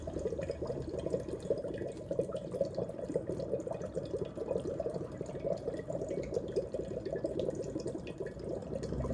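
Dry ice bubbles and fizzes steadily in water, a continuous low gurgling churn with no voices.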